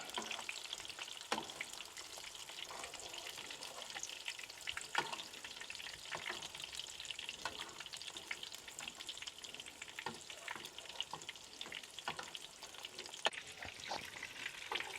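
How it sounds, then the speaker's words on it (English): Pork cutlets for Japanese tonkatsu deep-fry in hot oil, giving a steady, close, dense sizzle and crackle with occasional louder pops as oil is spooned over, with no talking. "Spooning some of that oil over."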